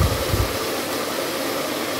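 Boiled water pours from a container into a hot pan for Kenyan ugali, a steady rushing hiss with a louder gurgling splash at the start that settles into an even, continuous stream.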